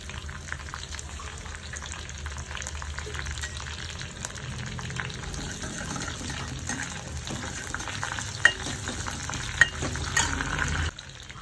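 Mustard seeds and curry leaves spluttering in hot oil in a pan, a steady dense sizzle with a few sharp pops and crackles near the end, up close and uninterrupted by speech.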